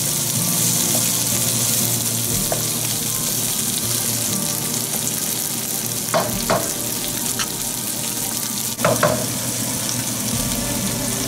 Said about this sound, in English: we'll add the cherry tomatoes and let it cook till it bursts